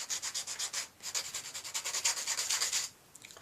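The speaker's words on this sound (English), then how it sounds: "I like these sanding sponges. This happens to be a coarse one." A coarse sanding sponge rubs back and forth along a wooden knitting rod, giving quick rhythmic scratchy strokes, close and steady for about three seconds before stopping.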